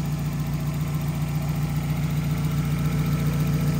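A 1996 Toyota Celica GT coupe's 2.0-liter engine idles steadily with the hood open, a loud, even low hum with constant mechanical vibration throughout and no talking.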